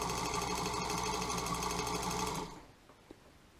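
A Singer White Featherweight sewing machine runs without thread and with the presser foot up, a steady fast mechanical whir and clatter for about two and a half seconds before stopping abruptly, followed by a faint click.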